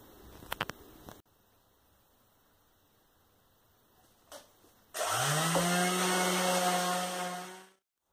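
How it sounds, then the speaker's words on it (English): A third-sheet belt sander rounds over the corners of wooden planter pieces, running as a steady, loud, close whine that starts abruptly after scattered knocks and a quiet stretch, then stops near the end. "a normal third sheet belt sander around the corners to take off the burring that we have"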